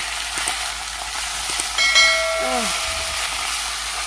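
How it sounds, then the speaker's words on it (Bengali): Malabar spinach seeds frying with onion in a pan give a steady sizzling hiss throughout, with a few faint clinks from a utensil and a brief tonal squeal near the middle. "1 থেকে 2 মিনিট এভাবে ভাজবো"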